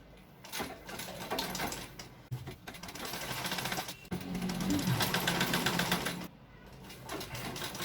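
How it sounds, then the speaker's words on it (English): A sewing machine stitches fabric for a throw pillow with trimming in steady mechanical bursts, running, pausing briefly and starting again, close and fairly loud with no talking. "And you'll be sewing just like this."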